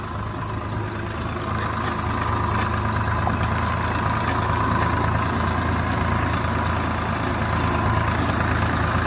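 A Mahindra Thar engine idles steadily, a continuous low rumble with a mid-range hum that holds at an even level throughout. No one speaks.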